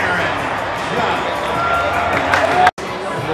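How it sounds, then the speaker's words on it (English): Crowd at a Yankees baseball game roaring and cheering in a steady, dense wash of noise, loud and close throughout, with voices mixed in and a brief dropout near the end. "The crowd is going crazy."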